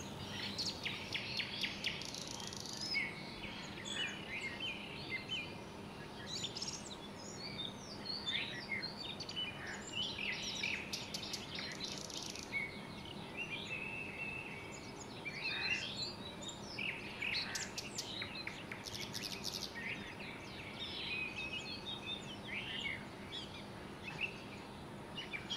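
Birds sing in trees, with many small chirps and tweets scattered over a steady, faint background hiss, continuous and fairly distant throughout.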